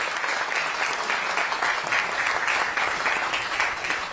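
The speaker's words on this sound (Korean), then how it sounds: "다시 한번 이 두 분 그리고 모든 분들께 큰 축하의 박수 한번 보내주시면 감사하겠습니다" Sustained, dense applause from a large audience at the Ministry of Oceans and Fisheries opening ceremony, loud and steady throughout with no voices standing out.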